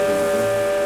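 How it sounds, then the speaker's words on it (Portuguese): A steam locomotive, a Maria Fumaça in service since 1924, sounds its whistle before departure, a steady, loud, sustained tone heard close up for the full short clip. "O apito anuncia que a Maria Fumaça vai partir."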